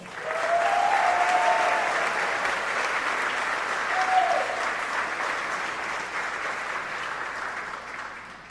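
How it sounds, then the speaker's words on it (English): An audience applauds at a mayoral inauguration ceremony, steady, full clapping that swells early, holds for several seconds, then gradually fades near the end. "One more round of applause here for Andy, Debbie, Eric."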